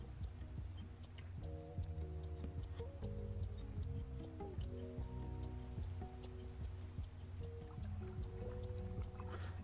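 Steady video game rain hisses and patters continuously in a GregTech and Create modpack, with scattered drips on top and soft melodic game music playing underneath.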